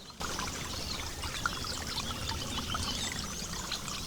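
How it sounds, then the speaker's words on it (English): A small seasonal stream running through a bottom field on farmland, a steady close trickle and pour of water that carries on evenly throughout with no voices. "you're going to hear the running water."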